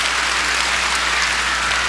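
Sustained applause from a congregation at a 1991 Christmas church service, a dense, steady wash of many hands clapping at even loudness throughout, with no voices over it.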